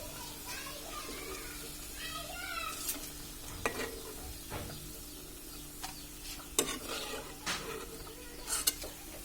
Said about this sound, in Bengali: বাকি যে বাঁধাকপিগুলো আছে সেগুলো এখন আমরা এর মধ্যে দিয়ে ভেজে নেব